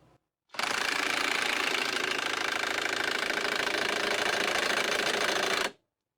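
Robustrue RT1000B half-inch impact wrench running on its first power level, a loud continuous rapid hammering rattle at high RPM lasting about five seconds after a brief quiet start, then stopping abruptly.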